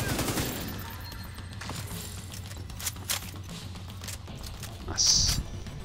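Hip-fired gunfire in The Division 2, a few sharp shots scattered through a busy, moderately quiet game mix with a brighter burst near the end.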